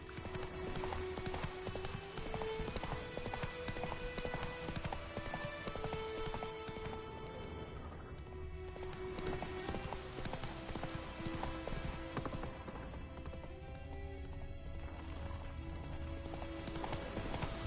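Hooves of Roach, a horse in The Witcher 3, clip-clop in a fast, steady rhythm throughout, mixed with rain and game music in the background.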